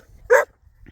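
A single sharp dog bark on a farm where dogs are kept with rams and bulls behind wire fencing, loud and close, standing alone amid quiet background.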